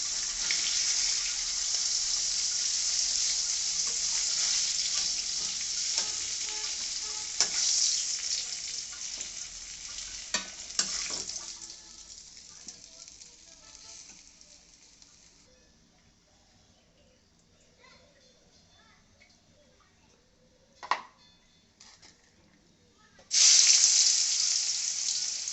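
Onions fry in oil in a kadai, a loud steady sizzle for the first half that fades to quiet, with a couple of sharp clatters and a sudden burst of sizzling near the end.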